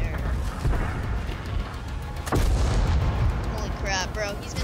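Tank cannon fire in World of Tanks: a heavy boom lands midway through a dense, continuous battle rumble, followed by creaking mechanical sounds and whistling shell noise near the end.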